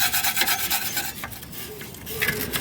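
Harsh rasping scrub of a brush or abrasive working rust off the ball joint mating surface on a Volvo XC90 lower control arm, continuous close rubbing strokes with no talking.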